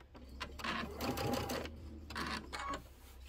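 A sewing machine stitches a pillow in two quick bursts of rapid mechanical whirring and clatter, with a brief pause between them and a faint steady hum underneath.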